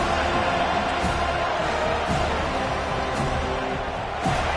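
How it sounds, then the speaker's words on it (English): Football stadium crowd roaring steadily behind the defense on third down, a dense continuous wall of noise with a few sharp thuds cutting through. "Decibels rising as the crowd gets behind this defense on third down."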